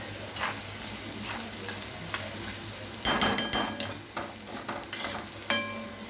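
Green chillies sautéing in a pan for a quick chilli pickle, with a low background sizzle and a burst of scraping, clattering stirring strokes in the second half, fairly close and without speech.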